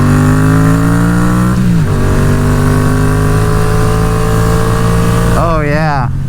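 Yamaha XSR700 motorcycle with a BMC high-flow air filter and aftermarket pipe, engine idling steadily and then revving up and down near the end, loud and close.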